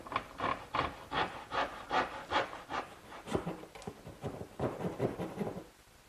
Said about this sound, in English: So I'm going to take my little dovetailing saw and trim off about 3/4 of an inch.